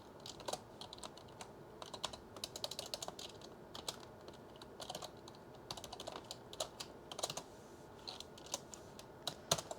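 Fast typing on a computer keyboard, likely in a Jupyter Notebook terminal, with soft clicking keystrokes in uneven bursts and short pauses. The sound is faint and close, and no one speaks.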